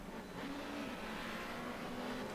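Honda touring race cars battling for position on the Jarama circuit in Spain, their engines a steady, distant droning whine that holds level throughout without any clear pass or crescendo.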